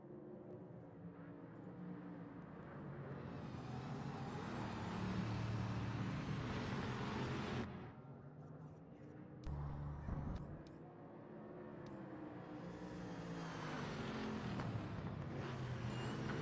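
A Porsche race car in Project Motor Racing drones and swells through changing revs, a steady engine roar with a brief drop and cut in the middle before it builds again, no speech.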